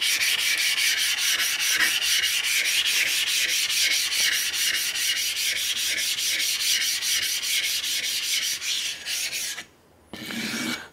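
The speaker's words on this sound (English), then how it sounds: "And then I'll polish across the surface, so it'll mellow out the surface" A knife blade is polished on a Tajima Nakatoishi Japanese natural whetstone. Rapid, rhythmic rasping strokes run steadily and close by for about nine seconds, then a brief pause and one more stroke follow, with no talk.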